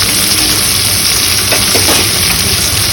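Onions frying until brown in a pan for a broccoli prawn masala, a loud, dense, unbroken sizzle close up, with a few faint stirring scrapes near the middle.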